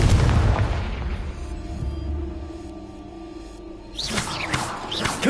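A Confringo spell in Hogwarts Legacy explodes with a loud, close boom that decays into a low, ringing rumble, then sharp whooshing blasts burst again near the end.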